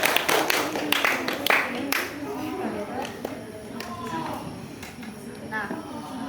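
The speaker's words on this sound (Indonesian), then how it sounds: "Untuk penonton boleh beri tepuk tangan dulu nggak?" An audience at a talk show claps in a scattered, uneven way, with distinct sharp claps over a room murmur and voices talking underneath.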